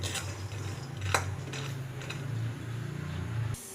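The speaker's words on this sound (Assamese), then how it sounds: "শুকান কেৰাহীত লৈ এনেদৰে ভাজি ল'ম।" Dry peanuts stirred in a hot, empty wok with a spoon, giving soft scraping and occasional clinks over a steady low background hum, with no talk.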